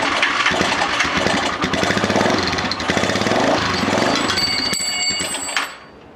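Lifan Earth Dragon 125 motorcycle engine turning over and running, a loud, steady mechanical chatter that holds for about five seconds, then a high whine rises before the engine cuts and drops away.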